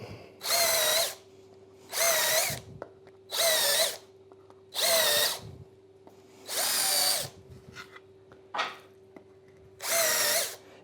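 A power drill countersinks holes in wooden trestle parts in seven short, loud whirring bursts with brief quiet gaps between them, close up with no talking.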